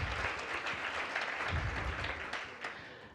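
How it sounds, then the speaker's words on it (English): An audience applauds award finalists at a wealth awards event, a dense, steady wash of clapping holding at a moderate level for the full length before easing slightly toward the end. "let's give our finalists a round of applause"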